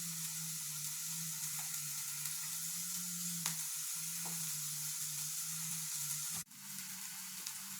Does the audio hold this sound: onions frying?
yes